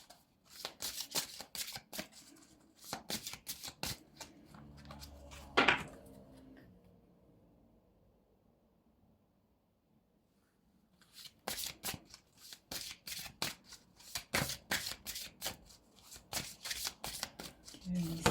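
Tarot cards shuffled by hand in quick riffling bursts, a sharp snap mid-way, then a few seconds of near silence before the rapid flutter of shuffling resumes, with no talk over it.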